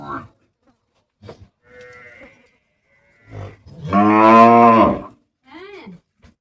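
A buffalo lows with one long, loud, close moo, among shorter grunts and a voice speaking softly nearby.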